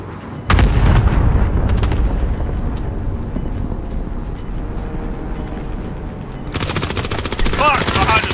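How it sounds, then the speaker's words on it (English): Bombing-run explosions and rapid gunfire in the Verdansk map of Call of Duty Warzone, a sudden loud blast followed by rumbling booms and a dense burst of rattling automatic fire near the end, with voices faintly underneath. "Incoming bombing run"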